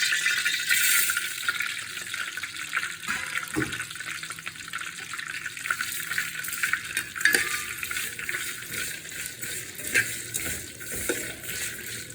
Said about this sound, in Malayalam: കുറച്ച് നെയ്യിൽ സേമിയ മൂപ്പിക്കാം